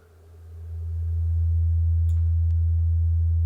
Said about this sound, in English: let's listen to this 24-bit sine wave